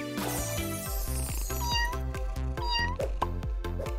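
A cartoon cat meows repeatedly in a children's crafts cartoon, its short rising-and-falling cries sitting over a bouncy, rhythmic backing track that runs throughout.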